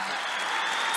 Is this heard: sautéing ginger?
no